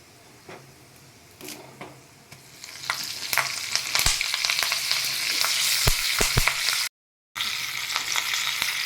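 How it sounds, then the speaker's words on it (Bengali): Asafoetida and curry leaves, added after black mustard seeds, hit hot oil with a sudden crackling sizzle that swells and then keeps hissing loudly up close, with a brief cut near the end. "একটু হিং দিয়ে দিচ্ছি, আর কতগুলো কারি পাতা দেব"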